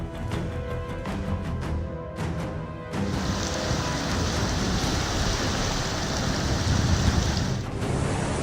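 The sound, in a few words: heavy rain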